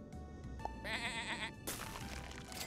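A cartoonish sheep bleat from the video game Super Auto Pets, one wavering, quivering bleat sounding clearly over the game's background music.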